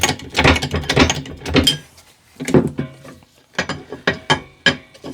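A floor jack is pumped by hand up to its full height, giving a run of metallic ratcheting clicks and clanks in short bursts, with brief pauses between strokes.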